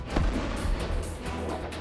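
An M777 howitzer fires with a deep, heavy artillery boom rolling out over about two seconds, loud and sustained, with no voices present.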